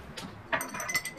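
A spoon clinking against a container while borax is added to clear slime made with transparent glue, giving a few quick, light metallic taps close by.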